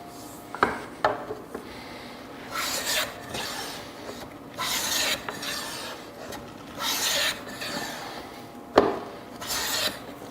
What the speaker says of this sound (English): I need to sand everything up to about 180